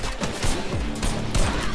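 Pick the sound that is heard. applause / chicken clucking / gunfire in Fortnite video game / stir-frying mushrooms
gunfire in Fortnite video game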